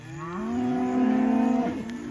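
A grass-fed steer out on pasture during extreme drought gives one long, loud, close moo that holds steady and then drops away, with no other sound around it.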